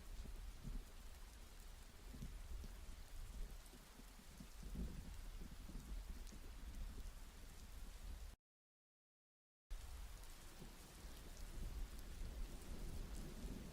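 Steady rain falls on surfaces with low rumbles of thunder rolling underneath, a soft, constant wash broken by a brief silent gap partway through.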